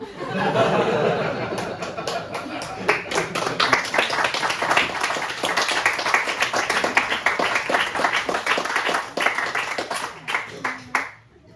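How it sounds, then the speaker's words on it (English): A comedy-club audience at a stand-up show claps steadily for several seconds, the applause mixed with chuckles and scattered laughter before it tapers off near the end. "You were the last person to clap."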